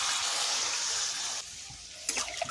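Water poured into a pot of goat tripe curry with potatoes, a steady rushing pour that drops off partway through, then a few splashy spurts as more water goes in.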